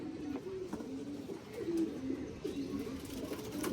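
Several pigeons keep cooing close by in repeated low rolling phrases, with a few light chirps and rustles mixed in. No talking.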